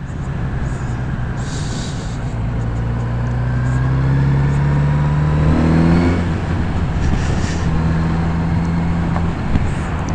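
Kawasaki Z900RS sport motorcycle accelerating on a test ride, engine tone climbing steadily through rising pitch then dropping at a gear change and climbing again, loud and close under heavy wind rush.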